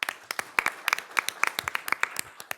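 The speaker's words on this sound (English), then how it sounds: "we'll still honor him with a round of applause as well" Applause for an absent student honoree at a township board of trustees meeting: a modest round of hand clapping in a meeting room, made of distinct sharp claps at an uneven, moderately brisk rhythm, fairly close and unaccompanied by talk.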